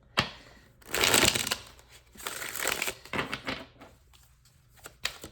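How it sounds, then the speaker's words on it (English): Tarot cards being shuffled by hand up close, with several bursts of crisp riffling and flapping separated by short pauses, moderately loud against a quiet room. "the shuffling might be loud"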